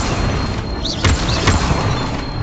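Incendio fire spell cast in Hogwarts Legacy, a sharp burst with a booming thud and crackling flare, followed by a second impact; loud and close over a steady background hiss.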